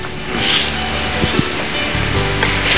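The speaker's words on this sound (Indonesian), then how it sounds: "sementara Ibu Femni akan menggoreng sisa telur yang ada" Egg frying in a pan while making Korean japchae, a close continuous sizzle and spatter with a few sharp clicks of a utensil, no voices.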